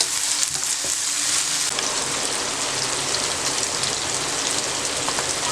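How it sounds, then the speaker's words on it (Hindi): Chickpeas fry for chana pulao in a pan, giving off a loud, continuous close-up sizzle with crackling that sounds almost like rain, steady throughout and free of talk. "चने डालें और अब हमने चनों को भी फ्राई करना है।"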